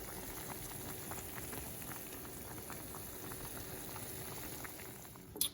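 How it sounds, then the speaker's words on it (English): Smoked turkey simmers in broth in a pot, making faint, steady bubbling and soft popping at a low level, closing with a short clunk. "This has come up to a boil"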